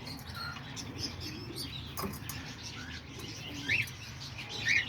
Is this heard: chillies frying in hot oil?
no